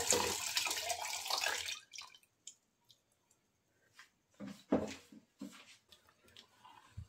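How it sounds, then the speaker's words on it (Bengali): Thickened milk poured into a pot of Bengali rice pudding (payesh), a dense liquid splash and gurgle at the start, then quieter scattered clinks, drips and stirring sounds close by. "এখন এই সম্পূর্ণ দুধটা আমি এই পায়েসের মধ্যে ঢেলে দেব।"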